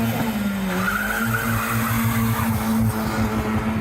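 A Nissan Micra drifts at a car meet, its tires squealing loudly and continuously for a few seconds over a revving engine, close by.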